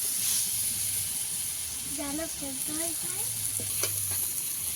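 Potatoes with turmeric and chili powder sauté in a pan with a splash of water, producing a steady hiss and sizzle with occasional stirring scrapes, while a faint voice speaks quietly in the background.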